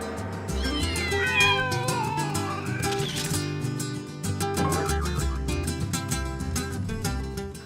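Domestic cat meows, several drawn-out tonal cries rising and falling over a dense, loud background of music that runs throughout.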